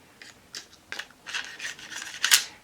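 A Ruger LCP II .380 ACP micro pistol slide is fitted onto its frame, making a close series of short metallic scrapes and clicks with slight rubbing, growing slightly louder toward the end.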